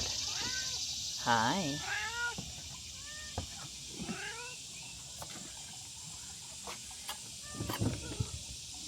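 Several cats meow repeatedly, some calls rising and drawn out, close by, with a brief spoken greeting and light household clatter between them.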